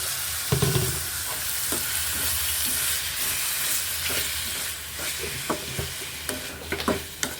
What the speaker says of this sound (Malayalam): ഉപ്പിട്ട് കൊടുത്തിട്ട് നമുക്ക് ഒന്ന് വഴറ്റി കൊടുക്കാം നന്നായിട്ട് അപ്പം നമുക്കിതിനകത്ത് കക്ക ഇട്ട് കൊടുക്കാം